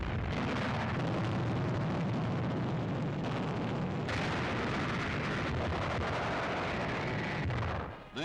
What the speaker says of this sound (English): The enemy has to be bombed or mortared out before the advance can proceed.